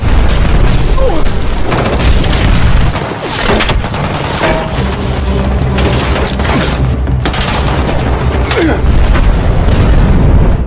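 Grenade blasts in an action film scene where police and a SWAT team are attacked, heard as loud, dense rumbling booms and bursts that fill the whole stretch without a break.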